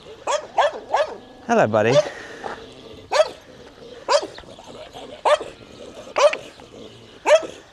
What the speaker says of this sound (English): Please don't say there's some stray dogs here.